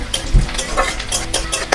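Onions frying in a pan for a chicken curry are stirred briskly, with a continuous close sizzle and crackle broken by the scrape and knock of a spatula against the pan, loud and without talking.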